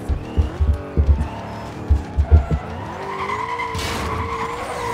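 An Aston Martin DB9 in Need for Speed Most Wanted skids with a series of rhythmic thumping tire pulses, then slides into a drawn-out rising squeal as the car loses grip.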